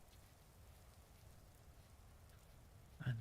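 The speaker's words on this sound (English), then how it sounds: "It's raining." Faint, steady rain falls continuously in the Vintage Story video game, a soft even hiss that carries on with no talking until a brief low thump at the very end.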